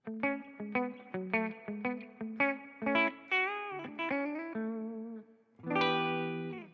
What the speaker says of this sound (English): That's a Gibson into a twin reverb.